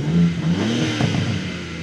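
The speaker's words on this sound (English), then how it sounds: "You hear the bangs and the pops and the crackles coming out the back." A BMW M3 Competition engine idling and blipping after start-up, a steady low exhaust rumble with rising revs and faint crackles.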